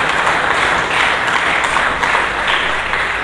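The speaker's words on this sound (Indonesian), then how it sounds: "Lebih meriah lagi, berikan tepuk tangan bagi Yesus." Worshippers at a church service clap louder for Jesus, a full, sustained roar of many hands that keeps an even intensity from start to finish.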